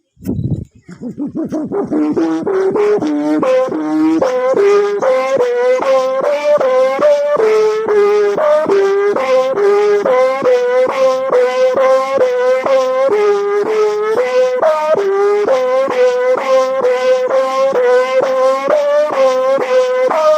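A loud buzzing hum from a kite's bow hummer pulses rapidly and continuously, its pitch rising at first then wavering up and down, like a taut bow vibrating in wind.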